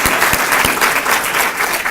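A brief burst of steady audience clapping at a breast cancer talk held at Norbeck Country, many hands together at a constant, fairly loud level, with no talking over it.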